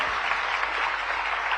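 Sustained applause from an audience at a state-level Biodiversity Day government event in Bhopal, steady and dense throughout without pauses.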